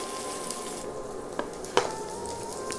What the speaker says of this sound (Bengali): আদা কুচি, লঙ্কা কুচি একটু ভেজে নেব 2 মিনিট।